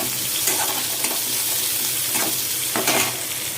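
Garlic sizzling in hot oil in a pan while cooking dalma, a soft steady fry with occasional stirring scrapes, fairly quiet and alone.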